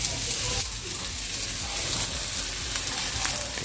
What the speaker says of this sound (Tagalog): tapos prito natin ito